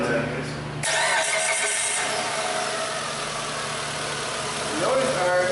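A 2004 Mitsubishi car engine cranks briefly, catches with a loud burst, then settles into a steady idle, recorded close with a voice talking over it.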